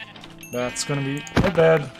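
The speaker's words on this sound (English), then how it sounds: "Okay, so we can kill these sheep here." Sheep in the Minecraft video game bleat close by, several wavering bleats in quick succession, mixed with someone talking over them.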